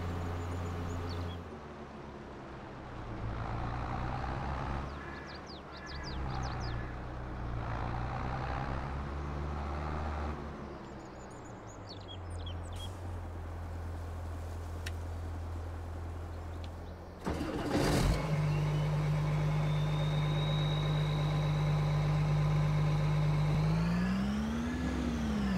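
In Farming Simulator 22, a farm vehicle towing a trailer holds a steady low engine drone that shifts midway, then a louder engine starts and idles with a rising whine toward the end, with no talk.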